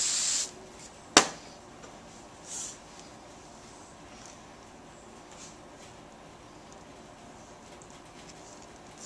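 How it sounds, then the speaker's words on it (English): A short, close burst of hairspray hisses onto hair at the start while a competition hairstyle is finished, followed by a sharp click and then near-quiet room tone. "Hairspray."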